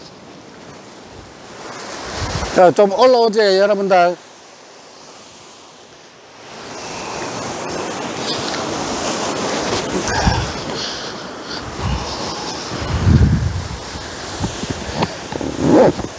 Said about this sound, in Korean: 이 파도가 굉장히 심합니다